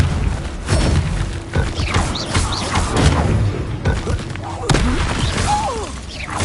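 Booming magical blasts from a Bombarda spell go off in a Hogwarts Legacy battle, mixed into a dense, loud game soundscape with crashes, rumbles and speaking voices throughout.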